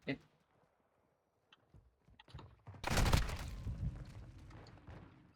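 Quiet moments with scattered small noises give way to a sudden loud, dense burst of M4 rifle fire in Modern Warfare 2, then rattling and impacts that gradually fade.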